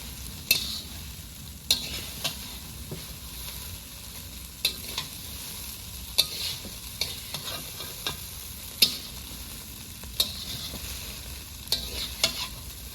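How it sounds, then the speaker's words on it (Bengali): Street-style chowmein stir-fried in a pan with fried egg and onion: a steady sizzle runs throughout, broken by sharp, irregular spatula scrapes and clanks against the metal, close up and with no talking. "এই ডিম ভাজা আর পেঁয়াজ ভাজা দিয়ে দিলাম চাউমিন"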